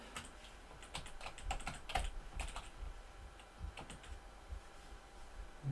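Fingers typing a password on a computer keyboard, a quiet close run of irregular clicking keystrokes with a few short pauses between bursts.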